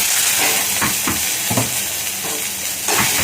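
About five cloves of garlic fry in half a spoon of oil with a steady sizzle, while a spoon scrapes and stirs the pan in several distinct strokes.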